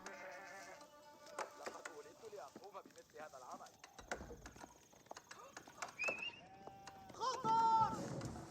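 Sheep bleating in Age of Empires 4, faint short bleats among game sounds like hoofbeats and clicks, under steady commentary talk.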